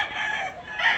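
A rooster crows loud and close in a Filipino rooster sale setting, one sustained strained call filling the whole moment with no talk over it.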